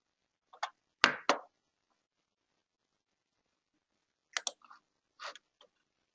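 Mouse clicks on a web page while registering in the Heat Index Portal: a few sharp, close, dry clicks in two small groups with silence between and no talking.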